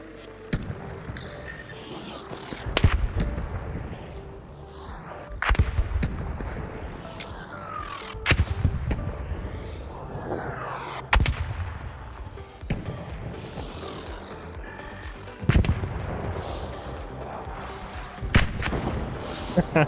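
Rocket blasts from the Bombardier enemy in the Arc Raiders video game, a series of heavy booming impacts every few seconds over a continuous rumbling battle soundscape.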